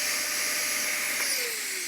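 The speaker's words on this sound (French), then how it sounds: "Et l'aspirateur, maintenant?" A vacuum cleaner runs in the next room, a steady high-pitched motor whine with a slight drop in pitch near the end, moderately loud and alone.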